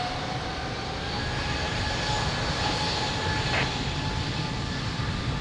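An airliner takes off from runway 02 at Lisbon Airport, its engines making a steady, loud broadband roar with a faint tonal whine that holds constant throughout.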